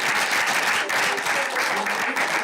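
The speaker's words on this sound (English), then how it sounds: "Give them a round of applause." An audience at a Skokie School District 68 board meeting breaks into sustained applause, many hands clapping together in a dense, even wash that fills the room, loud and close throughout.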